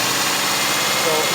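A four-cylinder engine running on only two cylinders with injectors unplugged idles with a rough, steady drone, close and fairly loud, with no clear rise in revs over the short moment.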